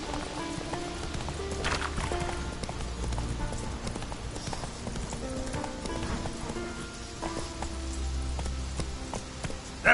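Geralt's horse Roach trotting in The Witcher 3, a steady rhythmic clip-clop of hooves running throughout, with faint game ambience and brief snatches of voices.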